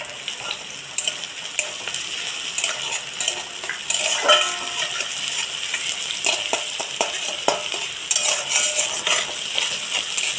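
Chopped onion, tomato and chili fry in a pan with a steady crackling sizzle, broken by the scrape and clink of a spatula stirring against metal, close and alone without talk.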